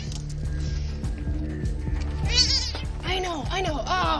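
Kitten meows repeatedly during a rescue with a leash, its rising and falling cries growing louder near the end over mechanical rattling and background noise.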